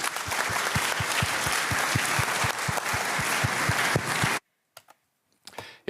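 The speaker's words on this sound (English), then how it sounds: "Let's give the panel a round of applause." A large audience gives a conference panel at the Munich Security Conference 2023 loud, sustained applause with dense clapping and a steady rhythmic beat, then it cuts off abruptly into near silence with a few faint clicks.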